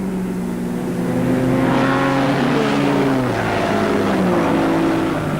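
A Honda CBX1000 six-cylinder and a Yamaha XS1100 shaft-drive race in a 1978 Castrol six-hour endurance event, engines howling loudly and steadily with pitch rising and falling as they pass close by.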